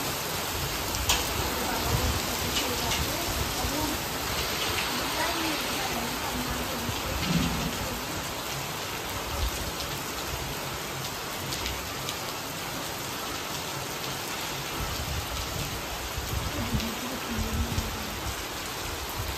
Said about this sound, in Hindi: और बारिश बहुत तेज हो रही है